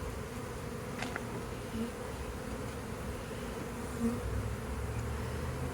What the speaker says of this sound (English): the bees are all congregating around the box